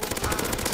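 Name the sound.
gunfire in video game CSS Zombie Escape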